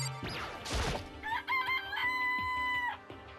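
A chicken in the video game Danganronpa crows and clucks: a burst of crash-like noise comes first, then a clear, close crowing call with wavering, tonal notes held over a steady background hum.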